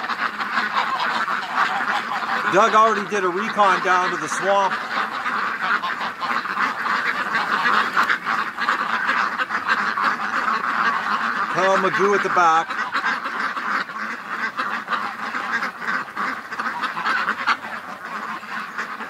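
Domestic ducks and geese quack and honk in two short bursts near a swamp on a homestead, loud over a steady outdoor noise bed, while someone talks throughout.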